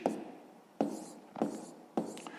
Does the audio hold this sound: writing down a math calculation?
yes